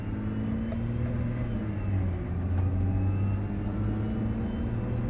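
A Nissan GT-R engine pulls in second gear with a steady, fairly loud droning hum and no talking.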